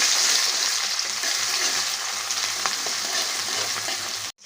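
Ginger paste and garlic frying in hot oil in a pan, a loud steady sizzle with faint stirring scrapes that cuts off abruptly at the end.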